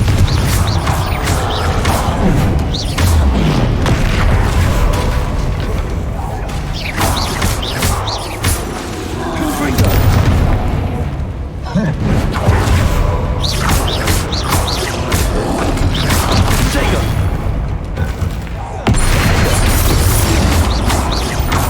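The Confringo blast spell goes off repeatedly in Hogwarts Legacy, loud bursts and crashes that recur through dense game combat noise and music, with no clear speech.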